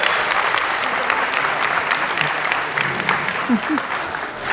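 A convention panel audience at G-Fest 2024 applauds in a dense, sustained wash of clapping that holds steady for several seconds before thinning slightly near the end.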